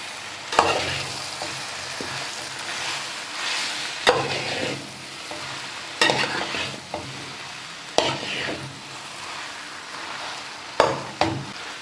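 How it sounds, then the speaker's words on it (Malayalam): Boiled tapioca being stirred with fried coconut in a hot pan, a Kerala-style dish: a soft steady sizzle runs throughout, broken by sharp scraping clacks of the spoon against the pan about every two seconds. "ഇനി നന്നായിട്ട് ഇതൊന്ന് മിക്സ് ചെയ്യാം"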